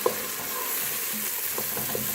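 A spoon stirs and mashes a tomato masala paste frying in a pan for a fish curry, giving a steady sizzle with soft scraping pushes and occasional wet taps near the end.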